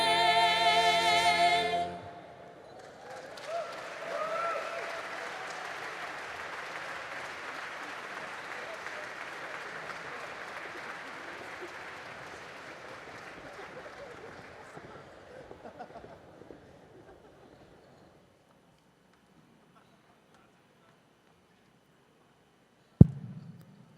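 Applause for the singers at a gala evening swells after a brief burst of music, holds for several seconds, then tapers away into near silence before a single sharp knock.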